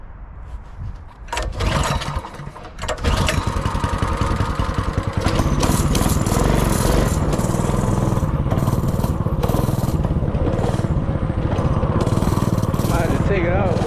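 Homemade wheelie mini bike engine starting at about one second, then running loud and steady, revving roughly throughout as people talk and shout over it close by.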